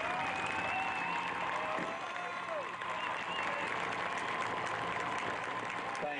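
Crowd applause at a high school football game between the Plainsmen and Broken Arrow, a steady wash of clapping and cheering from a stadium that holds for the whole stretch.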